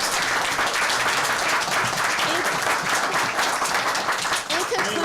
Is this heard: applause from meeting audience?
yes